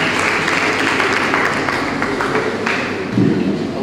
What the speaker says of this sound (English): Give a warmer round of applause for the Bursar.